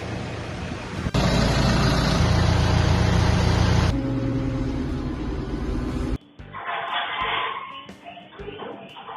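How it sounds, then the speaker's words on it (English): A farm tractor with a grab clears bedding from a maternity calving pen on a dairy farm, its engine loud and close at first, then fading to a lower idle with clanking and talk. "I'm going to come in with the tractor, take the stuff out with the grab and put on the juggy"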